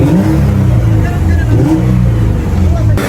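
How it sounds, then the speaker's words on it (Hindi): A Toyota Mark II JZX110 with a V6 engine revs steadily nearby, a continuous low droning engine note that holds throughout, with people talking over it. "भाई V6 साउंड।"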